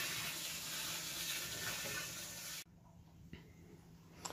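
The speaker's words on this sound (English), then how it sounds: "that was truly amazing watching that water go in there" Garden hose water gushes into a hand-dug opal mining hole at Coober Pedy, a steady rushing flow that cuts off abruptly partway through, leaving faint clicks and knocks in near silence.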